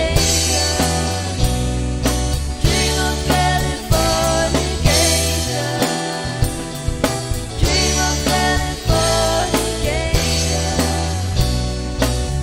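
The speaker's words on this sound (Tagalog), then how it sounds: "Pero yung tunog ng gitara ni Master Chen dito parang acoustic lang no" Full-band music with a clean, bright electric guitar that sounds acoustic, strummed over steady drums and bass, loud and close throughout.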